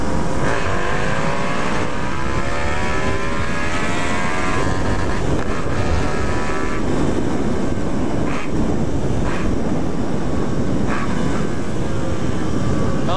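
A car accelerates hard, its engine note climbing steadily with exhaust crackle from a larger exhaust tip, loud and close throughout with no pauses.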